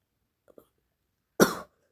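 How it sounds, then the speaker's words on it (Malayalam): A single sharp cough from a person with a cough and fever, close and fairly loud after two faint ticks of near silence, with no talking. "നല്ല ചുമയും പനിയുണ്ട് ഗൈസ്."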